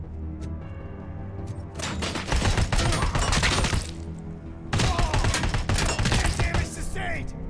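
Bursts of rapid automatic gunfire in RoboCop: Rogue City, loud and dense, in two long volleys separated by a short pause, with a voice speaking partly under the shooting.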